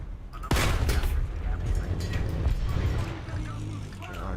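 A tank cannon fires in the video game War Thunder, one sharp, loud blast followed by a rumbling tail and continuous engine and battle noise.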